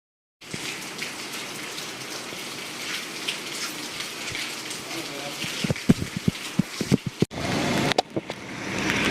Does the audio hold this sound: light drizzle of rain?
yes